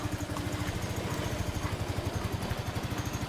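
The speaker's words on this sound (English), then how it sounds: "so I think we're in a little bit of a shaky idle." A carbureted Honda Big Ruckus scooter idles roughly after sitting a while, its small engine pulsing in an uneven, lumpy rhythm close by with no voices over it.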